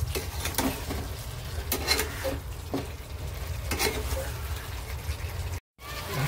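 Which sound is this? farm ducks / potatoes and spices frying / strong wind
potatoes and spices frying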